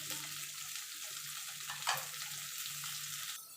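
Capsicum, tomato and green chilli frying in butter, giving a steady, close sizzle with a brief louder crackle near the middle, no voices.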